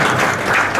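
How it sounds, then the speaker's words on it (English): Audience applause in a hall at an electric-vehicle seminar, dense steady clapping filling the whole short moment, fairly loud with no voices over it. "At least we have clapped."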